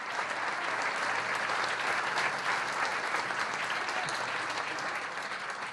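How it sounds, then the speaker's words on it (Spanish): Sustained applause from an audience at a political party event in Argentina, dense and steady throughout without a break, fading slightly toward the end. "Un aplauso para los compañeros."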